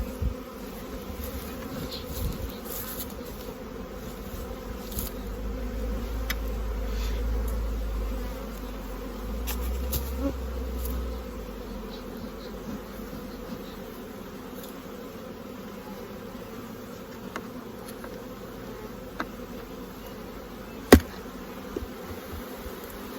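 Honeybees hum around an open beehive on a farm, a steady close droning buzz that holds throughout with slight swells, broken by a couple of sharp clicks near the end.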